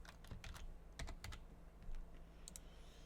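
Computer keyboard keys are typed in short quick bursts of clicks with brief pauses between them, close and clear over a faint background hum.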